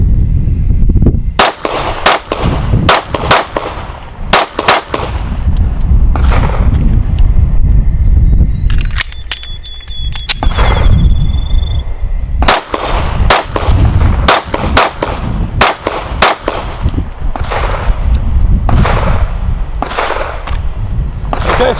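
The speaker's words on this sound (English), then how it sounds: "let's shoot some steel and see how well it does" A 2019-model Sig P365 pistol fired repeatedly at steel silhouette targets outdoors, loud sharp shots in rapid strings and bursts with brief pauses, some metallic ringing from hits.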